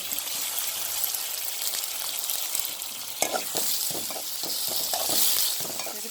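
Chopped tomatoes hit a pan of browned onions for a drumstick fry, giving a loud, steady sizzle and crackle with a few stirring scrapes partway through and no talking.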